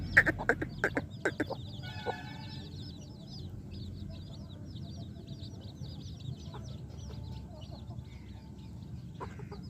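Hen with young chicks clucking near a poultry shed, a few close clucks at the start followed by a steady chorus of soft cheeping chicks over low background noise.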